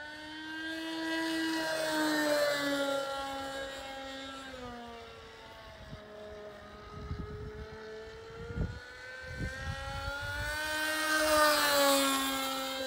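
A Grasshopper model airplane flies overhead with a buzzing propeller engine whose pitch swoops up and down as it passes, steady and fairly close, with no talk.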